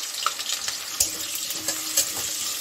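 A large potato fries in hot oil in a Bengali kitchen, a dense crackling sizzle with a few sharper pops and spatters, close and steady.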